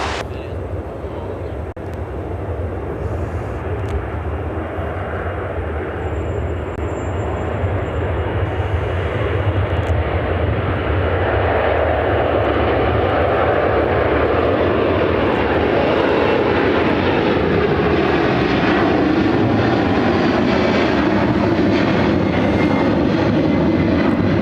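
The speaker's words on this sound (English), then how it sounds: "This is United Airlines 929 taking off to London Heathrow" A United Airlines jet, flight 929 to London Heathrow, takes off with a loud, continuous engine roar that builds and thickens over the clip, its rumble dominating throughout.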